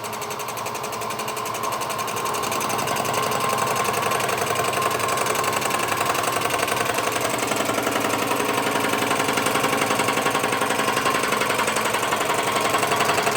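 A milling machine cuts an inlet manifold, running off tram so the tool cuts on its back edge, making a steady close chatter and whine that holds for the whole stretch with no pauses.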